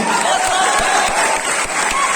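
Audience applause in a lecture hall during a motivational study talk, dense continuous clapping mixed with crowd noise, loud and sustained throughout.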